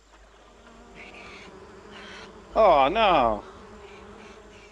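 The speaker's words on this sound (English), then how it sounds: "Bees." Buzzing bees in the video game Amerzone, a faint hum at first that swells into a loud wavering drone for about a second, with a voice exclaiming over it.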